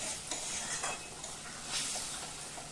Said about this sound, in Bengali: এই গরম জলটা দিয়ে আমি কষবো মশলাটা